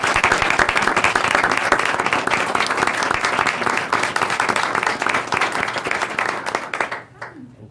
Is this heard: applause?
yes